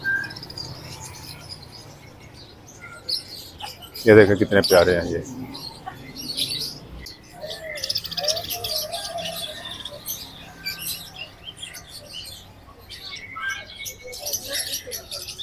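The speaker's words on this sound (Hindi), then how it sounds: "ये तोते हैं ऑस्ट्रेलियन तोते हैं" Australian parrots chirp and twitter in a small flock, with faint scattered calls and one louder burst, while someone talks over them in Hindi-Urdu.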